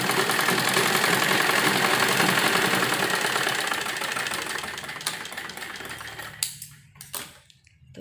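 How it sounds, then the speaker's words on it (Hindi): A sewing machine runs steadily while stitching frock fabric along cut side seams, its continuous mechanical whir filling the first six seconds before stopping into a few brief clicks and near silence. "और इस तरह से हम सिलाई लगाएंगे"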